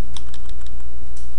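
Quick clusters of keystrokes tap on a computer keyboard as text is entered, close and clear over a steady low hum, with a brief pause before a final few taps.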